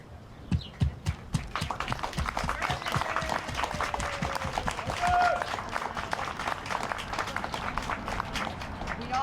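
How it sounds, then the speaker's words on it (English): At an outdoor community band summer concert, an audience applauds new band members: a few sharp, isolated claps open into steady, moderately distant clapping from a spread-out crowd, with light background noise and a brief voice or bird-like tone mid-way. "would you please stand and we can give them a round of applause"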